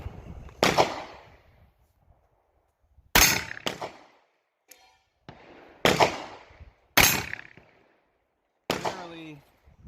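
A 6-inch Taurus Judge revolver fires .410 defense disc shells in five sharp, loud, separate shots spaced a second or two apart, each with a short ringing tail and quiet gaps between.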